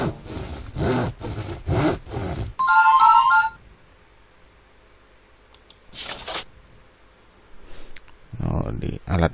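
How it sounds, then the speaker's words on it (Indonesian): Rhythmic back-and-forth saw strokes cutting wood as a sound effect in the 2001 educational game DK Play & Learn Reading and Counting, followed by a bright chime and scattered game effects. "Gergaji."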